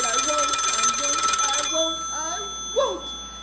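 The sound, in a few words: telephone ringing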